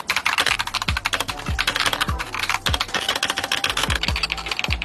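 Rapid typing on an Akko 3098 Neon mechanical keyboard with Cream Blue switches, a dense, steady stream of close, crisp clicky keystrokes with no talk.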